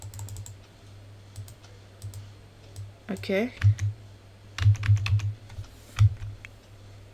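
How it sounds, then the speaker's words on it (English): Keyboard typing on a computer, a rapid flurry of clicks that comes and goes in bursts, loudest in the second half, while a person speaks briefly over a steady low hum. "I'm sure you all can hear me ferociously typing"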